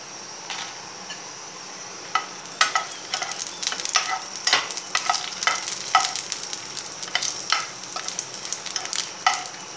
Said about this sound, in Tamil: ஆயில் விட்டு இப்போ வத்தல் போட்டுக்குவோம்.